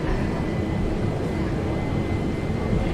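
A flight simulator aircraft engine runs at full takeoff throttle, a loud, dense, unbroken roar and rumble that holds steady across the whole stretch with no one talking.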